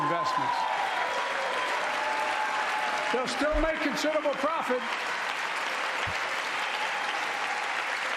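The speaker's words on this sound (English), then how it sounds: "To a thunderous applause" Applause from the chamber audience at the State of the Union runs steadily throughout, a broad continuous clapping bed with a voice speaking over it partway through.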